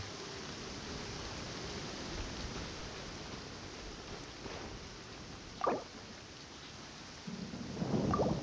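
Steady rain hisses through the Genshin Impact game world, with a distant thunder rumble around the middle and a heavier, rumbling swell of thunder near the end; no voices are heard.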